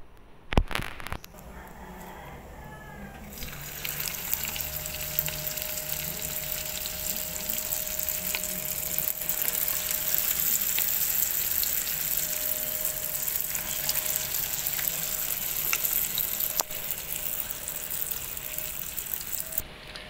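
Martabak popiah skin frying in oil in a pan for a Palembang dish, a steady close sizzle running nearly alone throughout after a brief clatter at the start.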